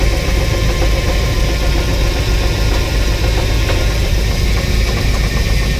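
A 1984 box truck engine running steadily at its first start-up after sitting with 15-year-old fuel in the tank, a loud, continuous close idle with a rough, knocking mechanical rattle throughout and no talking.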